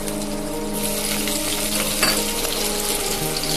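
Potatoes go into hot oil in a pan after tempering spices, giving a steady close frying hiss with light bubbling and a faint clink partway through.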